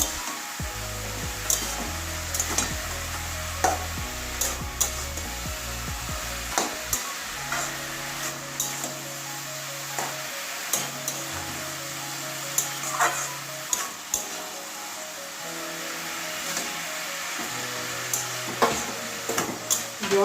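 Cabbage curry with tomato being stirred in a pan, a steady frying hiss with repeated scraping and clinking of the spoon, over a low tonal hum that sounds like a nearby fan or burner.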